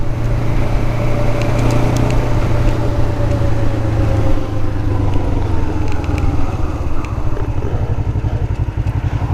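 A Kawasaki Ninja 500 motorcycle engine runs loud and close, holding a steady drone before its pitch climbs as the bike pulls away, with no voices.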